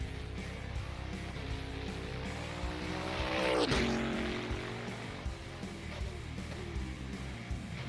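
A GT3 race car in a sim racing game at Bathurst crashes into the wall and flips onto its side: a steady engine drone swells into a brief grinding impact, then the engine noise continues.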